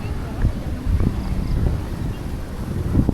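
A strong wind buffets the microphone in gusty, low rumbling bursts that rise and fall at close range, with faint voices under the roar while heading down toward a cave near Angeles City in the Philippines.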